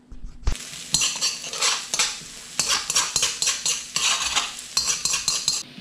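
Finely chopped onions fry on a hob at medium heat while a utensil stirs and scrapes them around a metal pan, giving rhythmic clattering strokes over a soft sizzle, close and clear with no voices.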